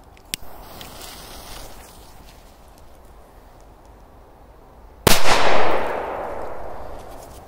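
A small firecracker is thrown and goes off outdoors: after several seconds of quiet ambience, one loud, sharp bang bursts out and rings briefly before fading.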